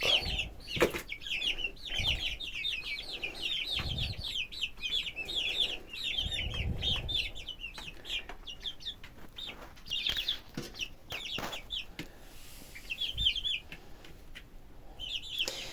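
About ten young white roosters and hens cluck and chirp continuously at close range on their perches, a busy overlapping chorus with occasional louder squawks and thumps.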